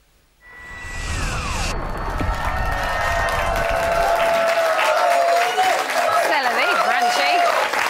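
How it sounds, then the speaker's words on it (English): A live television studio audience for Celebrity Big Brother applauds and cheers loudly, a dense sustained wave of clapping that swells in after a brief quiet and holds to the end, with music tones and a presenter's voice mixed in. "shall we all put our hands together and give a thunderous applause again for Clem and Steph?"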